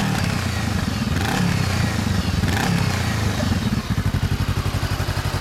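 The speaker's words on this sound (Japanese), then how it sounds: "エンジンスタート。" A 2014 Honda CBR400R motorcycle fitted with a Moriwaki exhaust starts up nearby, revving with clattering mechanical noise before dropping into a loud, pulsing, rhythmic idle.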